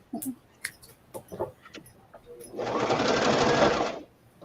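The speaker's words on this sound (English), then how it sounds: "I'm going to go sew it." A sewing machine stitches a butterfly onto vellum, a dense burst of whirring lasting around a second and a half that follows a stretch of scattered voices and small handling noises.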